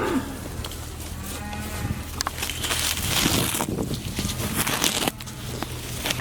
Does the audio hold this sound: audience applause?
no